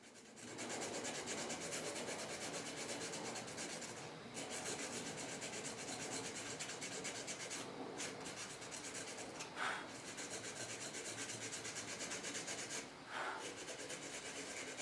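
Sandpaper wrapped around a piece of scrap aluminum rubbing against the inside of a knife handle, a close, steady raspy scrubbing in continuous strokes with a few brief pauses.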